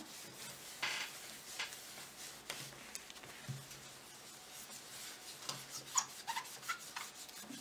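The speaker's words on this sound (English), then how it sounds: "So I'm going to clean the tile. Make sure that it's free from glue." Quiet scraping and rubbing as glue is cleaned off a tile, with irregular strokes and occasional light taps, close by and without talking.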